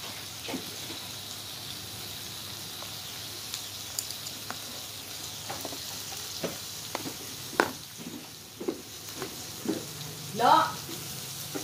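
Thinly sliced pork strips sizzle on a Korean hotpot grill, a steady close frying hiss with scattered pops and utensil clicks, and one louder scrape near the end.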